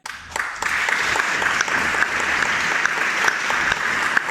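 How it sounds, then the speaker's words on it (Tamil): An audience at a comedy stage show bursts into steady, dense applause that carries on loud and unbroken for several seconds, with no voices over it. "எல்லாரும் கரகோஷம் எழுப்புங்க"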